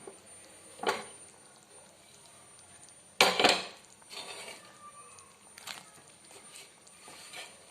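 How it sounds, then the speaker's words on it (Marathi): Fried paneer pieces drop into a pan of simmering dhaba-style masala gravy, giving a sharp clatter and a wet splash, then soft scraping and light bubbling at low volume. "आता त्यामध्ये आपण टाकून घेणार आहेत हे फ्राय केलेले पनीरचे पीसेस"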